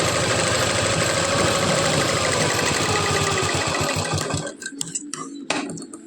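A sewing machine runs steadily while stitching a 42-inch belt blouse, a continuous loud mechanical whir that stops after about four seconds, leaving a few scattered clicks and handling noises.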